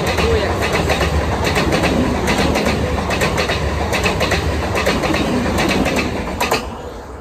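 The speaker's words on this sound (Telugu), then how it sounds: "Today video is classic ICF blue color coaches trains." A Mumbai LTT Express train with classic blue ICF coaches rumbles past close by, its wheels beating a rapid, rhythmic clickety-clack over rail joints with talk mixed in. The noise eases off near the end.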